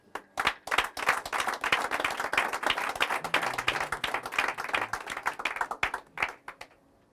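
A church congregation claps loudly and continuously in a dense, rhythmic burst of applause lasting several seconds, with little voice audible.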